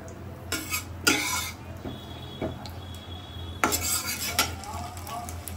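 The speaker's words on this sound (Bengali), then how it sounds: "তেলটা দিয়ে একটু নাড়াচাড়া করে নিচ্ছি, যাতে তেলটা ভালোভাবে গরম হয়ে যায়।" A spoon works mustard oil around a pan heating on the stove, giving a handful of scraping, clinking strokes spaced irregularly over a low steady background hum.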